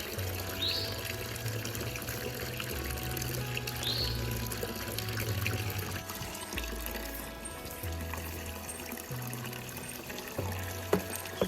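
Free-flowing water pours steadily into a one-gallon can, a continuous close splashing stream with low resonant tones that shift as the can fills.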